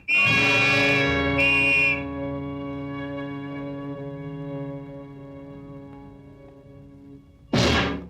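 Two shrill police whistle blasts ring out in a scene from a Tamil movie, followed by a long, fading, echoing tone and a sudden burst of noise at the end.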